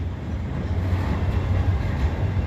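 A loud, steady low rumble of a passing freight train's rolling rail cars fills the scene in Abbeville, continuous and close, with no voices.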